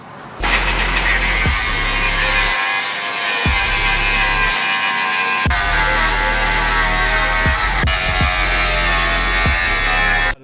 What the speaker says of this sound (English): Quickest way, just cut them off.